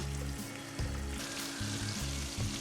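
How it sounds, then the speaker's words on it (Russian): Pike-perch fillet fries without flour in a hot non-stick pan, a close, steady sizzle with soft crackles and small pops, and no voices. "Берем филе судака. Жарим без муки."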